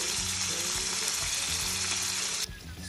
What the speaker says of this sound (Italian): tagliato i nostri pomodorini in cubettini ed ora li andiamo ad aggiungere nella padella con l'aglio. Li lasciamo soffriggere un attimino.